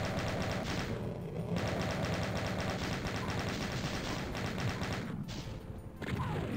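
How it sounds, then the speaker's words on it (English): A chaingunner enemy fires in Final Doom's Plutonia amid a dense battle, with rapid continuous gunfire rattling under heavy layered explosions and crashing effects, loud and unbroken throughout with brief dips. "you can see that chain gunner at the end down there. He's really gunning for us here."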